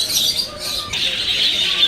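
Many small birds chirp and twitter together in a zoo aviary in Mysore, a dense, continuous chorus, close by and fairly loud.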